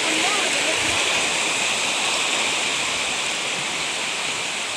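A river rushes steadily past, a continuous broadband roar of flowing water close by with no pauses.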